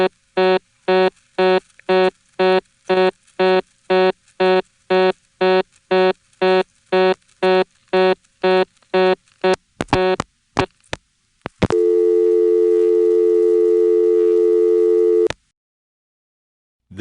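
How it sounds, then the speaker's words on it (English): Reorder tone from a Stromberg XY telephone exchange: a loud tone pulses in a fast, even on-off cadence for about ten seconds, followed by a few clicks and then a steady continuous tone that stops abruptly. "Here is that familiar Stromberg XY reorder, fortunately without another call on top of it."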